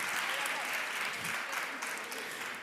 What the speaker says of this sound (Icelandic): Gefum henni ennþá betra klapp.